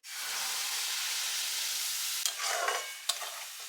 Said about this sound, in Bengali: এবার এটা কিন্তু ভালো করে ফ্রাই করব।